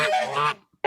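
A goose honk sound drop, loud and close, a long blaring honk lasting about half a second, then a brief quiet gap and the start of another honk.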